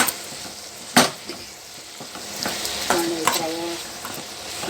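Garlic cloves sizzle in hot oil with ivy gourd curry while a spoon stirs the pan, giving a steady fry with a sharp scrape near one second and brief clinks later.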